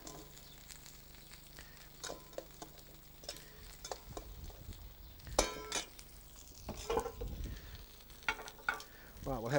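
Marinated beef steaks sizzle in a hot pan while being turned, the steady frying hiss broken by scraping, clinks of utensils against the pan and occasional louder knocks, close by and with no speech.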